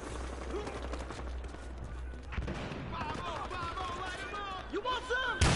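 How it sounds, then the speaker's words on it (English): Submachine gun fire in the game Battlefield Hardline, rapid bursts of muffled shots mixed with game effects and chatter, fairly quiet under the surrounding in-game noise. "All of these SMGs, even when they're not silenced, sound like they're silenced. They're so quiet."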